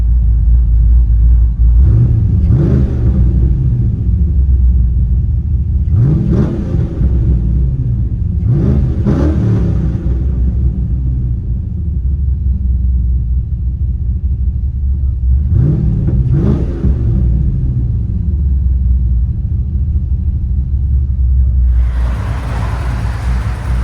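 A cammed Chevy Silverado 6.0L V8 with headers and Magnaflow side-pipe exhaust rumbles at a loud, lopey idle inside the cab, with four or five sharp revs rising over the steady burble.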